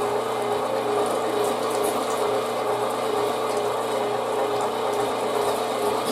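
A 1.5 HP electric meat grinder with a medium plate grinding 2-inch cubes of meat, a steady loud mechanical whir with a constant hum and faint rattling, no talking.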